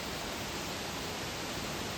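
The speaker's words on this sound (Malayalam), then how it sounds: "നോക്കിയാൽ വെള്ളം ഇങ്ങനെ വന്ന് വീഴുന്നുണ്ട്" Water pours down a waterfall at Ponmudi in Idukki, a steady, even rushing hiss that stays faint and unbroken throughout.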